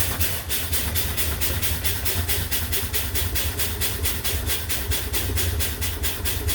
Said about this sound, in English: Now I'm gonna fan my brakes.